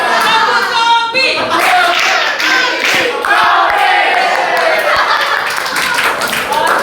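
A group of children performs the "tepuk kopi" clapping routine, a loud, rhythmic burst of hand claps mixed with chanting voices filling the whole stretch.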